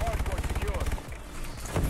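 Rapid burst-fire gunshots from a gun in Call of Duty: Advanced Warfare, a fast stuttering run of shots filling the first second, then quieter game sounds with talk over them.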